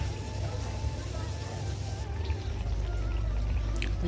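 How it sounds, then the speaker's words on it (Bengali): Rice-flour poa pitha cakes fry in hot oil with a continuous close sizzle and bubbling hiss, over a low background rumble. "পোয়া পিঠা ভাজলো মা এখন"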